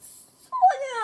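A pet dog in the Minecraft video game lets out one short, close whimper, a rising then falling whine that follows a moment of faint hiss.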